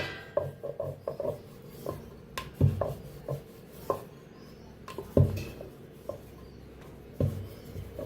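Maida dough balls for karanji dusted in flour and rolled out thin with a rolling pin, giving soft repeated rubbing and knocking strokes with sharper taps at uneven intervals, close and fairly quiet with no talking.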